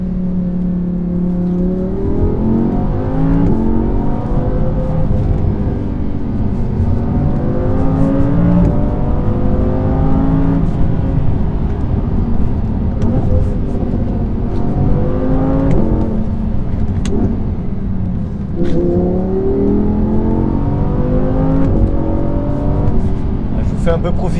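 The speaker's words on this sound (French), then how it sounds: "On va entendre la sonorité de ce moteur Atmo," Audi R8 V10 Plus with a naturally aspirated V10 engine revving and accelerating from inside the cabin, loud rising and falling sweeps through several gear changes with occasional pops, with someone talking over the engine noise.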